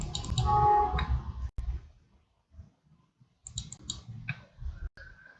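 Clicks and keystrokes on a computer keyboard while entering a sum formula into a spreadsheet, coming in two bursts separated by a near-silent pause, fairly close and with no talking.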